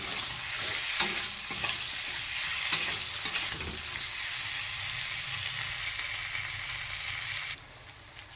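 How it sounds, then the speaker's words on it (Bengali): A ginger and cumin paste fries in hot oil for a vegetarian winter cabbage dish. A loud, steady sizzle runs under scraping stirs and then drops off sharply near the end. "দিয়ে দিয়েছি, এবার নেড়ে নেব।"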